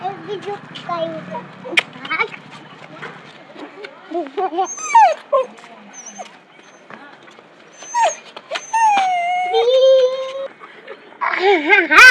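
Village dogs whimper, yip and whine in short, irregular bursts close by, with people talking over them.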